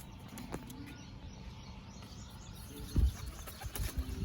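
Domestic pigeons around a rooftop perch give a few soft wing-flapping bursts, with sharper flurries near the end, faint against a quiet outdoor background.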